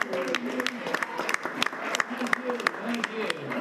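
A city council meeting audience applauds and cheers for the residents who came out in support, scattered claps popping through a murmur of voices and a few whoops.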